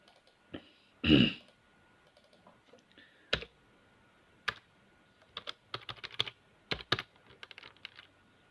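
Keys clack on a computer keyboard as JavaScript code is typed, in scattered short clusters of quiet clicks with pauses between, close and dry, with one louder breathy noise near the start.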